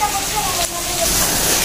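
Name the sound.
rain falling in a Pakistani village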